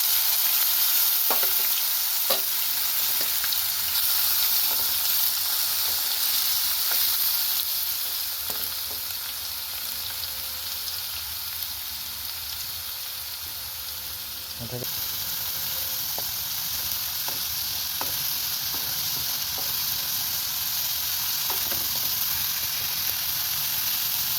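Onion and garlic paste frying in hot oil with dried chilli for a prawn malai curry, a loud, dense, steady hiss with a few faint scrapes, close and continuous without speech.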